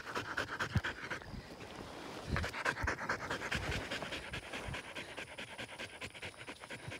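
A female hog-hunting dog pants steadily and rapidly at close range, a continuous rhythmic huffing with no talk over it.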